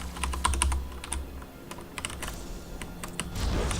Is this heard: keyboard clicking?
yes